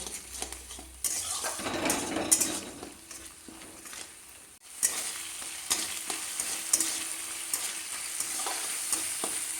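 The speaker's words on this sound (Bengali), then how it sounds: "পোস্তটাকে আমি একটু ভাজা ভাজা করে নেব" Poppy seed paste frying and being stirred in a pan for a Bengali chal kumro shak chorchori, with a steady close sizzle, spoon scrapes and clinks against the pan, and a brief dip midway.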